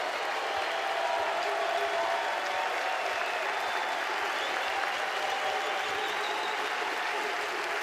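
A college baseball crowd in Athens at a Mississippi State vs Georgia game rises and cheers in support of the pitcher, a dense, sustained roar of applause and shouting that holds steady and loud throughout.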